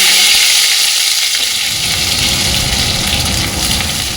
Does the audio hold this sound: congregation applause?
no